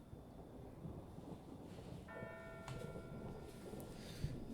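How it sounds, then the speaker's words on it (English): In the video game Eternal Darkness, a clock chimes twice: two ringing, bell-like tones arrive about half a second apart, faint over a low rumbling ambient background, with no voices. "Two chimes."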